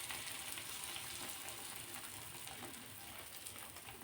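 An egg mixture for a quick boiled-egg omelette fries in a pan, giving a soft, steady, continuous sizzle throughout, faint and close, with no one speaking.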